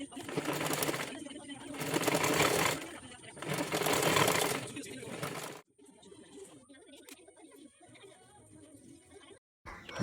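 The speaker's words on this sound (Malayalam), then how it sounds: "അങ്ങനെ 4 വശവും ഞാൻ അതുപോലെ സ്റ്റിച്ച് ചെയ്തെടുത്തിട്ട് ഞാൻ കാണിച്ചു തരാം കേട്ടോ" A sewing machine stitches a zip onto a feeding nighty in three loud, close bursts of rapid whirring, then falls quiet, leaving faint background sounds.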